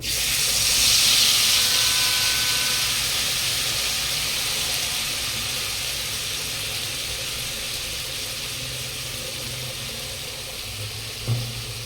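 Ground spice masala frying in a hot pan for a fish dish, a steady loud sizzling hiss that stays constant throughout and eases off slightly toward the end, with no talking.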